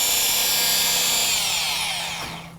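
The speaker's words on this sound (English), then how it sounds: "reduce the pressure and increase the RPMs. Go over the surface to clean all extra polishing compounds." A rotary polisher whirs steadily at high speed as it buffs polishing compound off automotive paint, a close continuous whine that winds down at the end.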